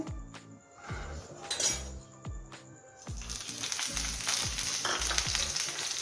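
Half-cooked chicken pieces fry in a little oil on a street-food style tawa griddle. A moderate sizzle swells louder midway, with occasional light clinks of utensils. No one speaks.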